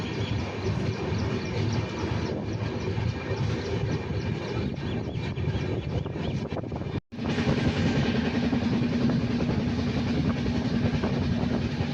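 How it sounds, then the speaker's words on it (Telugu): The Yeshvantpur Superfast Express pulls out of Hindupur station with a continuous loud rumble of wheels and carriages heard from on board. The roar cuts out for a moment midway, then resumes. No one speaks. "ఇప్పుడే ఈ ట్రైన్ హిందూపురం రైల్వే స్టేషన్ నుంచి బయలుదేరింది"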